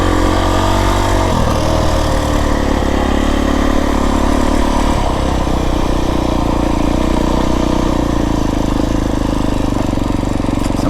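A Beta 350RR X-Pro dirt bike climbs a loose rocky trail in the Santa Rita Mountains, its engine loud and close, roaring steadily with pitch shifts as the rider changes throttle and gears.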